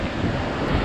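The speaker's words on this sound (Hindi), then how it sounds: "देखो इस तरफ से वाटरफॉल आ रहा है" A waterfall on a Himalayan mountain trek rushes as a dense, continuous wash of water noise, close and fairly loud, mixed with wind buffeting the microphone.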